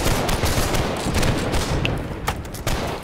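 Dense musket and rifle fire in the Napoleonic line battle game Holdfast: Nations At War, a loud sustained volley of overlapping shots with heavier thuds, crackling on continuously before thinning out near the end.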